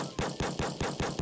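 Rapid automatic gunfire from a weapon in a Roblox game, six loud evenly spaced bursts in quick succession, close and alone with no talking.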